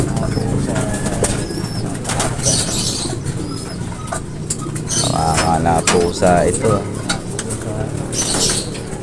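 A racing pigeon hovers and hesitates to land at its loft, with wing flaps and soft cooing near the birds and a person talking throughout.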